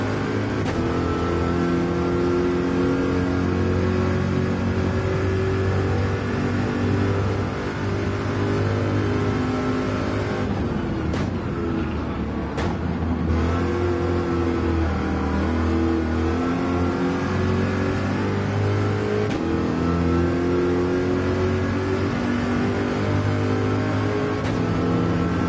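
Race car engine in Gran Turismo 7 held at full throttle, a loud, steady, high-pitched howl with strong harmonics that dips briefly near the middle before climbing again, continuous throughout with no talk.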